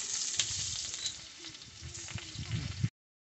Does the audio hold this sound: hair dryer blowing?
no